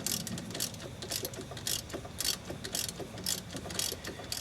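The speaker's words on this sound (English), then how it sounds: "this is just a 10mm socket we're using to get this out" A 10mm socket ratchet loosening a suspension bolt on a 2001 Dodge Caravan Sport during a strut replacement, with rapid bursts of close, crisp clicking repeated in a steady rhythm.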